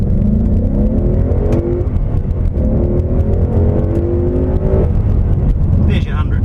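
A Ford Mustang GT with a V8 engine and six-speed manual accelerates hard, its loud engine note rising in pitch through a long pull before easing off, with a voice talking over it.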